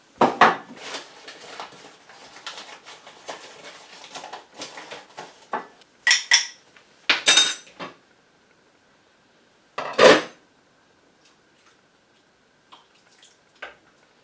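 Corn flour is stirred into homemade baked beans in a pot, giving bursts of spoon-on-pot scraping and clinks with quiet gaps between them, close and fairly loud.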